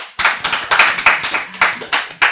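A small audience clapping, about a dozen sharp, close claps in an uneven rhythm, loud and without other sounds.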